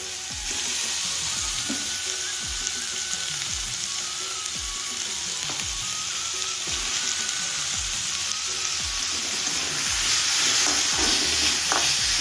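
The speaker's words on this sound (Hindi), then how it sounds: "ये टमाटर और शिमला मिर्च मैं दोनों एक साथ डाल दूँगा मैं" Tomato and capsicum sizzle steadily in a pan with onions while paneer bhurji is cooked, a continuous close frying hiss with repeated stirring scrapes and no talk.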